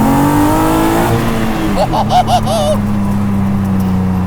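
A V6-swapped Exocet kit car's engine pulls hard under acceleration near 4,000 RPM, loud and close, with rising then steady tones as someone speaks briefly over it.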